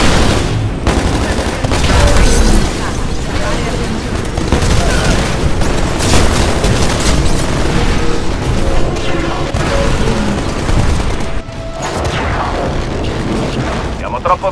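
Heavy cannon fire and explosions in the Titanfall video game, dense booming bursts and rattling gunfire layered loudly over voices and game sound throughout.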